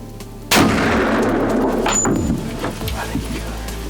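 A hunting rifle fires at a deer in the field: one sudden, loud crack followed by a long rolling echo and rumble that fades slowly.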